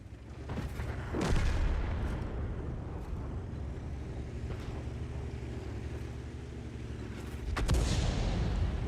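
Tank cannon shots in a World War-era tank combat video game, two heavy low booms about six seconds apart over a steady rumbling engine drone, the second blast loud and close with a lingering roar.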